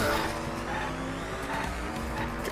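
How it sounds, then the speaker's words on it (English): Cars speed and race through a video game level, engines droning steadily with bursts of tire squeal and skidding across the whole stretch, loud and continuous. "Oh no, here comes a squad of cars."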